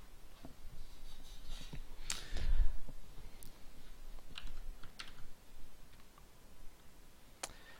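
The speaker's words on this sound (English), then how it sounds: "and then we'll start the process of typing things." A computer keyboard is being typed on while code is written in the 4coder editor, with sparse, irregular key clicks and a brief burst of denser clacking near the middle. Each press is close and crisp against a low background hiss.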